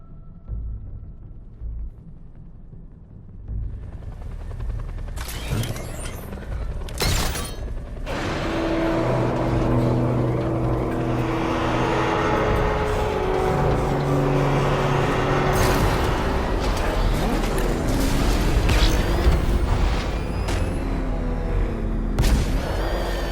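Batmobile from Batman Arkham Knight, the video game, with a deep engine rumble and heavy mechanical booms, clanks and whirs as the car transforms, loud and continuous throughout.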